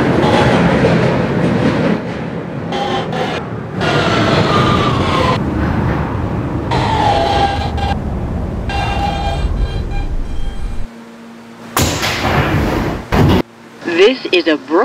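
A Roblox game's R160B Siemens subway train, a Brooklyn-bound N local on the BMT Broadway Line, rattles and hums along the tracks with clickety-clack rhythm, broken by brief pauses and a few sharp mechanical bursts near the end.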